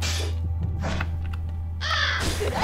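A crow in The Vagrant video game caws in bursts, one near the start and a louder harsh pair near the end, over a constant low droning game soundtrack.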